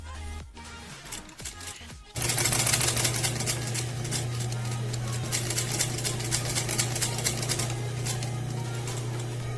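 A leather wrist strap being sewn on a machine: after a quieter start, a dense steady mechanical rattle of rapid stitching sets in and runs continuously, close and fairly loud.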